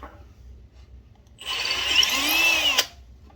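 A power drill drives a 2-inch deck screw into wood for an aquarium rack, a steady whirring burst of about a second and a half that rises in pitch as the screw seats, close and alone.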